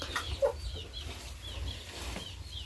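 Several hens cluck softly and intermittently nearby, with chirping birds and a faint ambient background.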